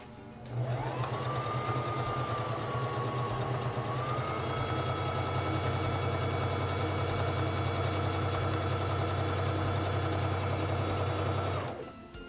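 A Singer Fashion Mate 3333 sewing machine stitching fabric, running in one continuous steady hum with a rapid mechanical whir for about eleven seconds before stopping.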